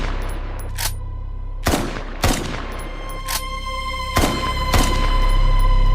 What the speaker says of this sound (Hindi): उसने लगातार गोलियां चलाईं।